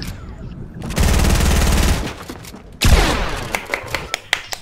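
Rapid automatic gunfire in the Fortnite video game, with a loud sustained burst followed by a second heavy volley and then scattered single shots, all close and without speech.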